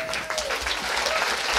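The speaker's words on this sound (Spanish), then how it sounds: "otro aplauso, por favor." A live audience at an industrial psychology panel bursts into steady applause, dense clapping filling the room at close range, with a faint voice briefly audible over it.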